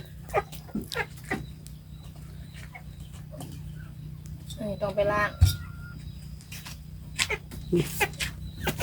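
Chickens cluck in a farmyard in short, scattered calls and bursts, with a clearer run of clucks near the middle, while people talk nearby against a low background hum.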